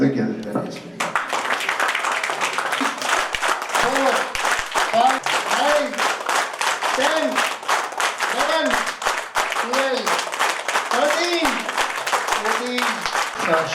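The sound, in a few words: audience applauding teachers at school event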